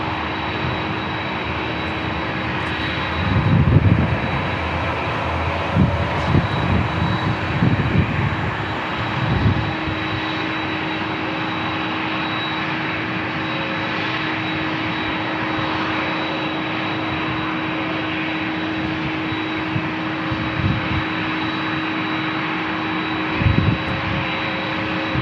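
An Airbus airliner at San Diego International Airport, heard as a steady loud engine roar and drone that holds throughout, with a few brief louder swells and no talk.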